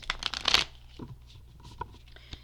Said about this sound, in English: These are pre-shuffled, so I'm only going to shuffle a couple more times